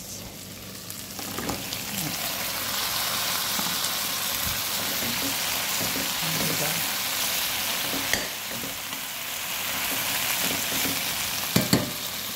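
Cabbage frying in a pan, a steady, dense sizzle that holds up close for the whole stretch, with a few faint clinks and no voices.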